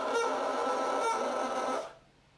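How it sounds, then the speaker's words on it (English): Bassoon double reed blown on its own without the instrument, producing a close, buzzy, squawking tone with a couple of slight wavers that cuts off after about two seconds, leaving near silence. "And when I play just the reed, it's going to sound like this."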